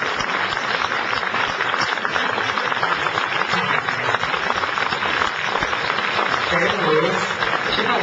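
An audience applauds a singer, a crowd's clapping running continuously beneath a voice talking over it.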